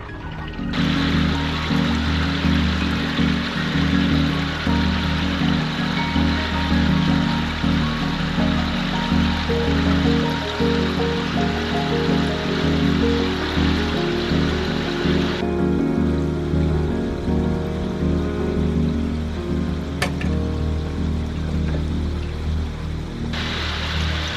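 Koi pond pump running steadily, water rushing through the filter in a constant loud broadband wash with a low hum, continuous throughout and unbroken by talk.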